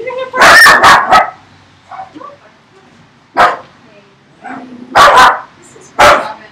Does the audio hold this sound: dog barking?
yes